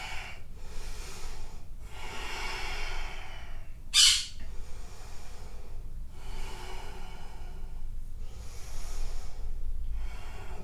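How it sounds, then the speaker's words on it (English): Slow, deep breathing during a yoga twist, with long, close, airy inhales and exhales repeating evenly, one sharp snort-like exhale partway through, and no talking. "3 nice deep breaths here."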